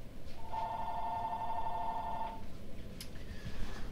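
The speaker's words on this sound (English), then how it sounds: "my phone's ringing" A mobile phone rings with a single sustained electronic ringtone lasting about two seconds over a steady background hum, followed by a brief chirp and faint game sounds.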